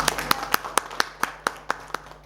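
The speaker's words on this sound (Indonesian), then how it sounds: "Berikan tepuk tangan yang meriah." A church congregation at a worship service claps in a steady rhythm: about ten sharp claps, evenly spaced roughly a quarter second apart, fairly close, with a faint low hum underneath.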